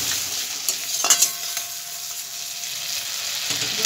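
Onion paste and ground spices for a Bengali prawn curry fry in hot oil, giving a loud, close sizzle with brief stirring clatters and utensil taps, no one speaking.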